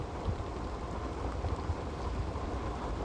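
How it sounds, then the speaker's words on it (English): Steady rain pours while a car drives through deep puddles, a dense, continuous hiss and patter with low rumble, even in level and without speech. "According to the weather report, we have another hour of rain."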